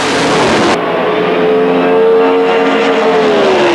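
A drag racing roadster at a South Australian ANDRA Pro Stock meet launches down the strip, its engine a loud, sustained roar that rises in pitch as the car pulls away.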